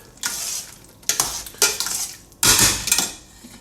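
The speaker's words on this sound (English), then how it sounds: "Little stir" A utensil scrapes and clanks around inside a pot of bolognese ragu in several bursts of stirring, close by, with short pauses between strokes.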